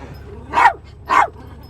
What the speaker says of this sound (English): All right, back up, Barky McBarkerson